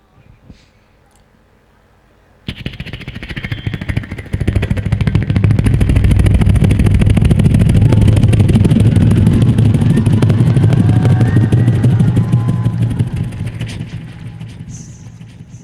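A voice mimics a helicopter with a loud, sustained rumbling drone that swells, holds steady for several seconds, then slowly fades.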